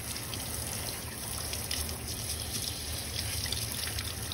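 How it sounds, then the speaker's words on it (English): A Trinidad ciric crab gets brushed under running water to scrub mud from its shell and legs. Constant faucet flow and splashing carry through, with soft scraping bristle strokes under the wash. "Take the crab, got the brush, scrub all the mud out, clean the legs and everything."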